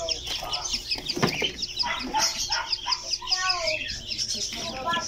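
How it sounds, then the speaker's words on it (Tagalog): Newly hatched backyard Naked Neck chicks from an incubator give a dense, continuous chorus of high peeping and chirping that is near and lively, with brief clucks and faint talk underneath. "So bilangin natin ang mga sisiyo."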